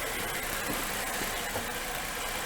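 A car engine idles with a steady, faint hum and no voices, heard during an oxygen-sensor performance test.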